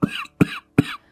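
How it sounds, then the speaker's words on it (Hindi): Three quick, close coughs in a row, each short and harsh with a raspy trail. "अरे, ये अचानक खांसी क्यों हो रही है मुझे?"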